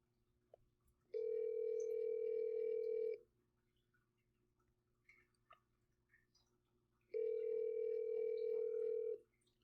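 An outgoing telephone call rings out on the line with two long, steady electronic ringback tones about four seconds apart, separated by near silence and faint background noise.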